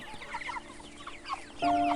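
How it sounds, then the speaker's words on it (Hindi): Chickens cluck in short, busy bursts close by, with a louder squawk near the end. "काका एक मुर्गा पकड़ते हैं और उसे तौलने लगते हैं"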